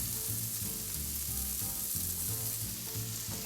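Shaved shallots hit a hot pan and sizzle steadily, a dense, even frying hiss close by with faint stirring underneath, no talking.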